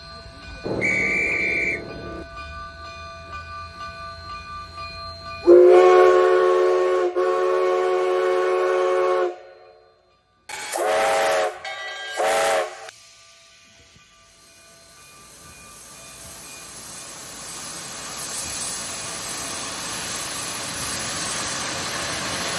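A steam locomotive sounds a whistle in short tonal blasts, then works along with rhythmic chuffing and a sustained rumbling clatter that builds toward the end, heard clearly without talk.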